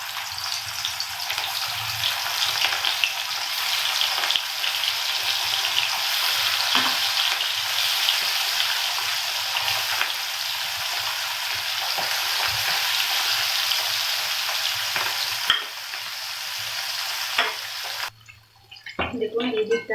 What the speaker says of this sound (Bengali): এতে আমি একটা একটা করে পুঁটি মাছগুলো ছেড়ে দেব।